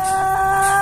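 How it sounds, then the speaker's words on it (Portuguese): Chickens and a rooster cluck in a closed henhouse on a small rural farm property, a brief, loud, close burst of throaty fowl calls. "Tem galo, tem galinha,"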